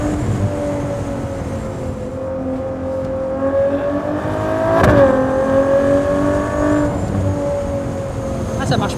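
Ferrari Monza with an 810 hp V12 accelerating, engine note climbing steadily with a shift around the middle and a loud rising drone, cabin noise around it and people talking over it.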